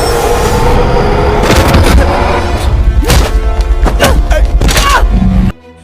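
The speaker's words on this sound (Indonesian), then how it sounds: "Mendengar suara tembakan dari dalam tempat V" Gunfire in a film fight scene crackles in a rapid burst of sharp, loud shots and thuds over a busy soundtrack, then cuts off abruptly.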